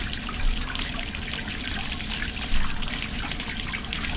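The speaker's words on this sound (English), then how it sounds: "Fill the tub up with some nice hot water." Hot water gushes from a tap into a bathtub, a steady, dense splashing and trickling that runs continuously and close by with no one speaking.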